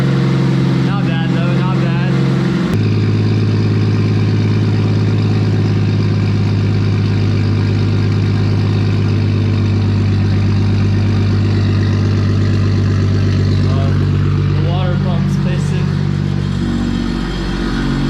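A Toyota Aristo with a 1JZ engine and custom exhaust idles loudly and steadily with a deep exhaust rumble and a slight exhaust leak, a brief mechanical clatter at the start and a few faint sounds over it.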